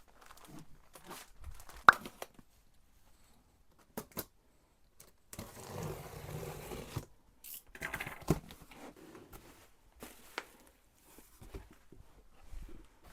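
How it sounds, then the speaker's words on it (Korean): Plastic packaging is torn and crinkled while a parcel of handbag-making supplies is unpacked, heard as several bursts of close rustling and crackling separated by short quiet gaps, with one longer crumpling stretch in the middle. "비닐이 엄청 많이 나오네."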